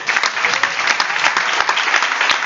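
Audience applause fills the room after a speech, a dense steady wash of many hands clapping at close range, with no voices over it.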